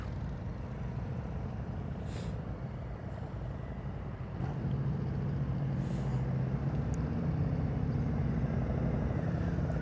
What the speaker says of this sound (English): You hear that engine puttering?